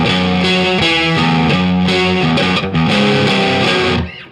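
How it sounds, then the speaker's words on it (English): A 1997 Fender Deluxe Nashville Telecaster on its neck pickup plays a chugging, heavily distorted riff with repeated palm-muted hits and sustained chords, loud and saturated, ending in a sudden cut-off. "Just put it on the neck pickup and add some distortion."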